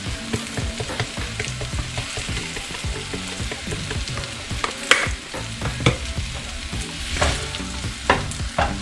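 Breakfast burrito filling seasoned with pepper and parsley is stirred in a frying pan, with a constant close sizzle and busy, irregular scraping and clacking of a utensil throughout.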